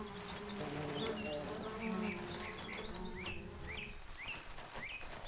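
Bees buzzing in a natural setting, a steady close insect drone throughout, with chirping birds calling repeatedly over it toward the end.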